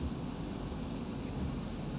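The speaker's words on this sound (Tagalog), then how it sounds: "Walang tigil ang ulan kanina pang pag-alis natin" Heavy rain falls without letup during Typhoon Paolo on Commonwealth Avenue in Metro Manila, a dense, steady broadband roar with low rumble and no voices.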